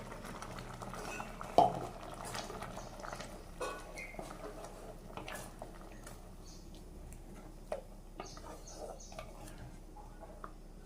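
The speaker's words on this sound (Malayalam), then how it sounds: "ഇനി ഇതിലേക്ക് അരച്ച് വെച്ചേക്കുന്ന അരപ്പ് ഒഴിച്ചെടുക്കും." A ground paste is stirred into a simmering spinach and lentil curry in a pot, with quiet scraping and scattered light clinks and ticks of a spoon against the pot at an uneven pace.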